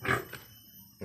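Pigs of an English crossbreed on a farm grunt in one loud, close burst at the start, followed by a softer grunt and then quiet pen noise.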